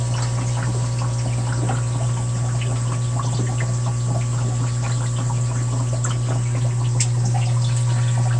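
Steady running water and a humming pump fill the space during an aquarium water change on shrimp tanks, with faint trickles and small splashes throughout, no voices.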